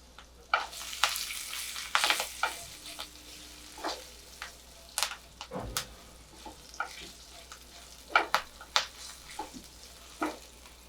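Curry leaves, two green chilies and chopped ginger drop into hot oil with urad dal for vermicelli upma, giving quiet intermittent bursts of crackling and spluttering with a low steady hum beneath.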